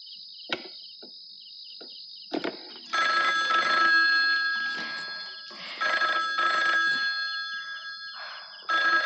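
A telephone rings in loud, repeated bursts of electronic tone after a few faint clicks, each ring sustained and then pausing briefly, close by and without any talking.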